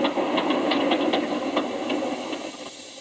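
Steam tank engine Thomas puffing along with a steady rhythmic chuff and hiss of steam, a continuous close mechanical rumble running the whole way through.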